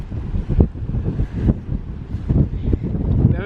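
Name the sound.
wind and rain outdoors by a river in Wales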